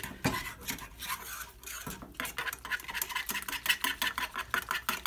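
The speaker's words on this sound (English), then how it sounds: "And just keep whisking it." Flour glue paste being whisked in a pot on the stove: quiet, continuous scraping and rubbing of a whisk against the pot, close, with uneven rhythmic strokes and no speech.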